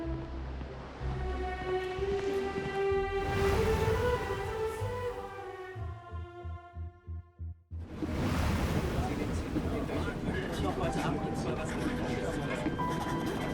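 Steady rushing and rattling of a train carrying a traveller out of Germany in the game 11-11 Memories Retold, heard under a narrating voice with music, briefly thinning before the loud rolling noise returns.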